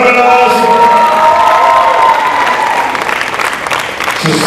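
Loud applause and cheering from a crowd of graduating students at a grad-night hypnotist show, with clapping and shouts and whoops rising over it at close range.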